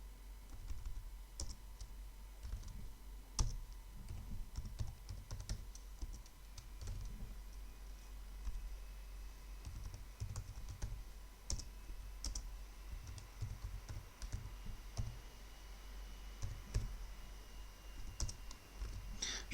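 Steady, quiet clicking of a computer keyboard as Python code is typed, with soft keystrokes in continuous uneven bursts and a few louder taps over a low background hum.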